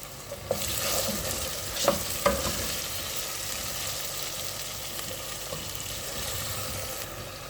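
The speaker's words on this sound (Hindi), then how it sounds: "अब आपने अच्छे से अपने मसाले को भून लेना है।" Spices with salt, turmeric and red chilli powder roast in a pan for a potato and tinda curry, giving a steady close sizzle with a few sharp spatula scrapes and stirring clicks early on, no voices.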